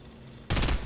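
A short, loud burst of video game gunfire erupts abruptly after a moment of low background noise, dense and close.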